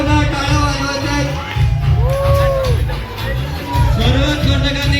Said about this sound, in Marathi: एकदा जोरदार टाळ्या वाजवायच्या आहेत